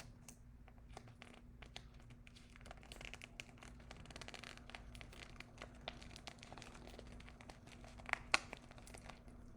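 Quiet, faint crinkling and tearing as paper pieces are peeled off a school box, small scattered rips and rustles close by with no talk.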